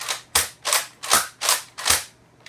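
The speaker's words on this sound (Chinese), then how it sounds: "连续射击模式 Slam Fire Mode， 扣住扳机，把握杆前后往不断的推，" A Nerf Rampage blaster fires rapidly in slam fire mode, six sharp, loud plastic snaps with a spring-driven whoosh after each one, coming in a quick, even rhythm about every third of a second.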